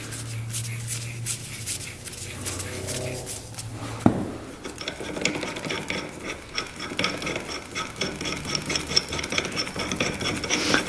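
A puller is cranked on a Yamaha YFZ 450 ATV to remove a part, giving a close rasping, ratcheting metal scrape in uneven bursts with a sharp click partway through.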